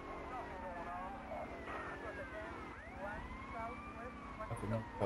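Police car siren in a PS2 video game, wailing in rising and falling sweeps amid engine noise and other busy game sounds, with a voice talking over it.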